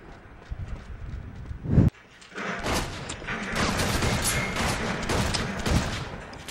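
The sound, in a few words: shotgun fire in video game Uncharted 2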